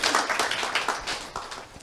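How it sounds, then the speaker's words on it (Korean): Seminar attendees at a business presentation clap together in a quick burst of applause. It is moderately loud, with rapid overlapping claps that taper off toward the end. "자기를 위해서 박수 한번 쳐볼게요"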